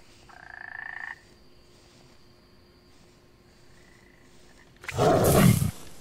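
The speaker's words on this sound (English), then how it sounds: "There are frogs. Are frogs here too?" Frog creatures in the video game Feral croak in a short buzzing burst, then a faint second croak follows, before a loud, harsh roaring blast erupts near the end.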